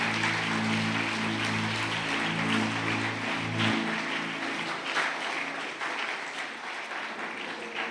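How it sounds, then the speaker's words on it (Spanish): A church congregation claps loudly in praise to God during a worship service, a dense, sustained burst of applause. A low sustained musical tone sits beneath it at first, then drops out, leaving only the clapping. "Den un aplauso fuerte,"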